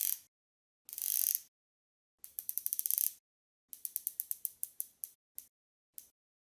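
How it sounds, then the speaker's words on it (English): A watch bezel is turned in several separate bursts, each a quick run of crisp, close ratcheting clicks with silence between, ending in a few single clicks. "the bezel action is one of the most satisfying I've ever tried"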